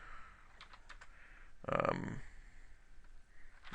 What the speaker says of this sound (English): you can type a note